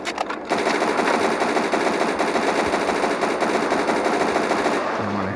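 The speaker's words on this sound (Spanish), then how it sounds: "Y ya ven, mucho disparo." Sustained rapid automatic gunfire from a zombie-shooting video game rattles on loud and continuous for about four seconds, then cuts off abruptly near the end.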